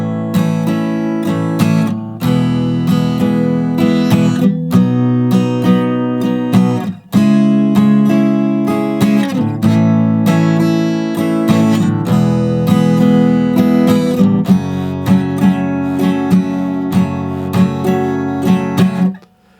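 A guitar strums the verse chord line of a song in a steady down-down-up-down feel, loud and close, with chord changes every couple of seconds and no voice.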